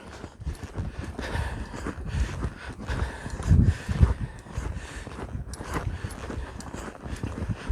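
A horse lopes on the right lead, its hoofbeats thudding in a steady rolling rhythm, fairly close and continuous, with one heavier pair of strikes midway.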